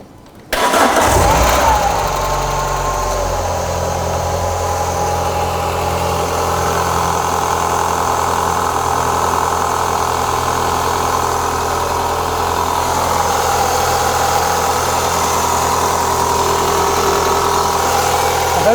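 A Renault Clio 182 with unknown coolant and a strange noise cranks briefly and catches, then settles into a steady, fairly loud idle with a low rumble and constant hum that persists to the end.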